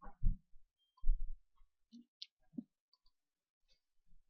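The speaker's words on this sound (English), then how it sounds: "you simply click on that app." Mouse clicks while selecting an app in an app-building template, a few short, sharp, separate clicks spaced across a quiet background.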